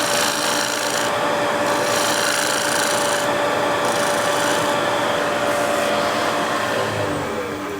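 A spear point scraper works over a wooden surface in repeated close, loud rasping strokes with a steady scratchy rhythm and no talking.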